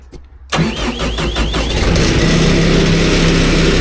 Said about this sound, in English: you want to engage the drum so that it starts spinning